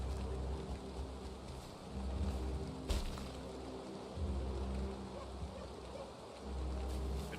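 Rain in the video game Valheim, a steady soft hiss of falling rain with low rumbling gusts and a brief crack, heard faintly and continuously.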